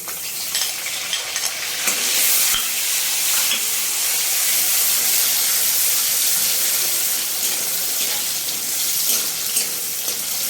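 Chopped tomatoes hitting hot oil in a pan for mutton keema, a steady bright sizzle and frying hiss that continues evenly, close and fairly loud, with faint stirring.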